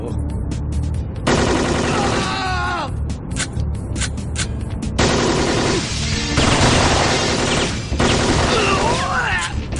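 Rapid bursts of automatic fire from a Glock 18 machine pistol in a shooting video game, loud and close, arriving in several sustained volleys separated by short pauses, with crashes and other game effects between them.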